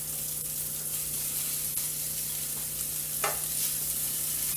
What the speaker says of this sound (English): So all of my sausage going on my griddle plate.